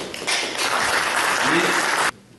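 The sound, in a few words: applause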